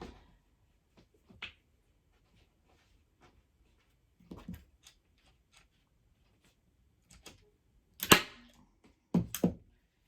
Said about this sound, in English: I have an electric staple gun, but it doesn't seem to drive them as deep as this one does.